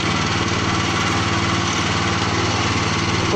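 A fish feed pellet machine runs steadily with a loud, continuous engine drone and grinding hum, close up and unbroken for the whole stretch.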